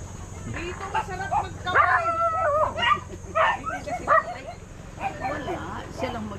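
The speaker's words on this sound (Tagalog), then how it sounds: "puro tahol lang ang mga yan" Several dogs bark, yip and whine in irregular bursts close by on a family vacation in Dasol, Pangasinan, over a steady low hum.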